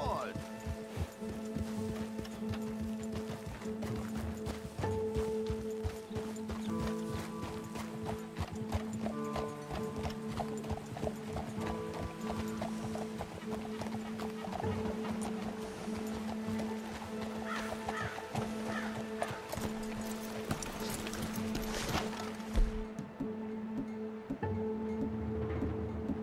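In Red Dead Redemption 2, horses' hooves clip-clop in a steady galloping rhythm for about twenty-five seconds, close and continuous, with occasional snorts and whinnies, while characters talk over the riding.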